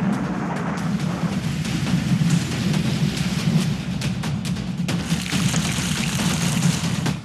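Heavy storm rain pouring steadily in Punjab, a dense, continuous wash of falling water with a low rumbling undertone, loud and unbroken throughout without any talk.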